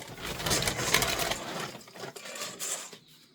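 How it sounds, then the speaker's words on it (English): Dry pellets rattle and scatter in a bowl for a few seconds, a busy rustling clatter that thins out toward the end. "So I just put a little bit in the bowl and shake it."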